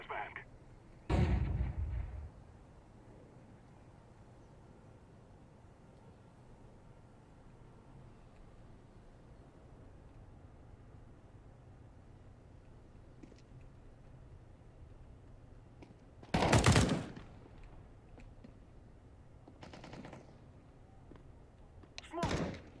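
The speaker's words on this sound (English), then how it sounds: "I'm throwing a flashbang." Grenade throws in a tactical shooter game, with a few loud, sudden bursts standing out from a quiet low hum, one early, one around two-thirds through and a softer one at the end.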